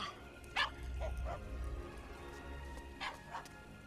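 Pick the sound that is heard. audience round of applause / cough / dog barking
dog barking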